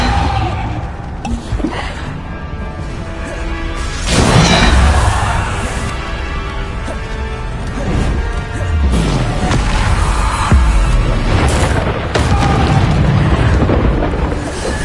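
Bombarda spell blasts in Hogwarts Legacy played on a PlayStation 5, loud rumbling booms and crashes layered continuously over roughly fifteen seconds with a heavy low-end rumble, no speech heard.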